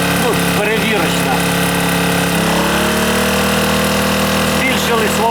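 A small Newton 1–1.2 kW inverter generator running loud and close, its engine hum climbing to a higher, steadier pitch midway as it takes an 1100 W load, with someone talking over it.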